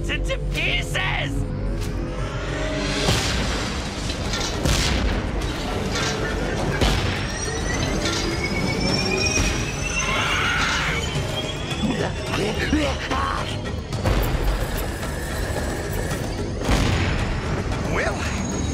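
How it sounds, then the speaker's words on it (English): Animated demolition charges blow apart a mountain in a loud, continuous barrage of booms, crashes and rumbling debris, with a backing music score throughout. "Demolition charges. They'll tear this mountain to pieces!"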